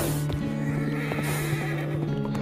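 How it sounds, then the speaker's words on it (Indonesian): A horse whinnies loudly over a steady tonal drone, with clip-clop hoofbeats pattering irregularly beneath it in a short burst with no voices. "sekali dia lepaskan kekang Gentayu, 2 lompatan kuda itu senilai 3 kali loncatan kawannya"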